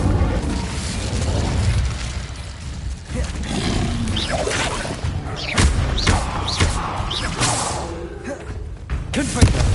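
Repeated Incendio fire spell casts in Hogwarts Legacy, a series of booming whooshes and thuds spread across the stretch, with some speech-like game chatter mixed in.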